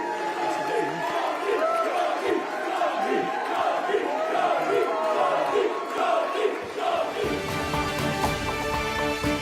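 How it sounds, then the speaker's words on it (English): At an election count in Birmingham Yardley, a crowd jeers and boos Jess Phillips after her win. The loud, sustained chorus of rising and falling voices fades out toward the end. "Jess Phillips just won in Birmingham Yardley, but was booed by opponents"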